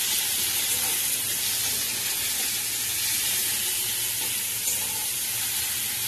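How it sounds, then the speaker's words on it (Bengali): Onions fry in a pan with a little salt, giving a steady, close, loud sizzle that holds without a break from start to finish, with no voices over it. "এবার পেঁয়াজটা আমি ভাজতে থাকবো, একটু যাতে তাড়াতাড়ি হয় তাই এর মধ্যে একটু লবণ দিয়ে দিচ্ছি।"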